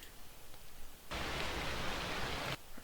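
Rain sound effect from the Zelda Classic game engine: a steady, even rainfall hiss that cuts in abruptly, holds for about a second and a half, then stops sharply, with no talking.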